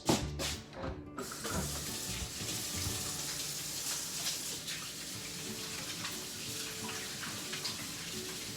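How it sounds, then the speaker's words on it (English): A tap runs steadily while hands are washed in a kitchen, a continuous close hiss of splashing water with a few brief clatters at the start and no talking. "we will gonna wash our hands"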